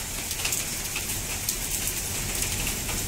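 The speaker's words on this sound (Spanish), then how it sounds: "Está cayendo granizo, mira." Hail pours down during a storm on Mallorca, a dense continuous hiss of pelting ice on surfaces close by, with faint dove-like cooing in the background and no talk.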